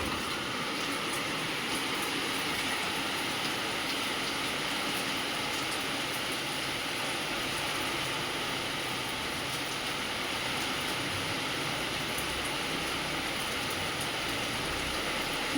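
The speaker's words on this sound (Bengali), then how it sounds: "বৃষ্টির কিরম আওয়াজ হচ্ছে দেখছো?" Heavy rain falls outside a house in a dense, steady hiss that stays even and unbroken from start to finish, without any voices.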